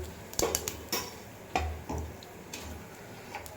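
Mustard seeds splutter in hot oil in a pan for a Telugu egg bhurji, with scattered sharp pops and crackles, some close and loud, others fainter, in a quiet kitchen.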